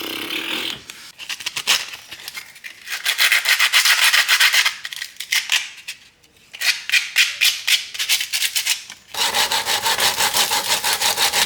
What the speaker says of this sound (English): This is really cheap crap sandpaper, so it's not lasting very long, but it's doing what it needs to do.